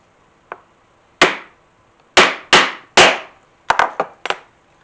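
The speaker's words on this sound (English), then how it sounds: "Set that rivet." A hammer strikes a rivet setter to set silver rivets on leather suspender hardware, nine sharp, loud, close-up blows in an uneven rhythm, with a faint first tap and a quick cluster near the end.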